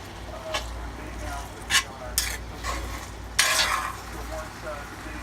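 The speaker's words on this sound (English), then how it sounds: "I'm stirring about every 10 minutes right now." Smothered okra in a pot is stirred with a spoon in a few distinct scraping sweeps, each a short burst. A low simmering sizzle and faint background noise run underneath.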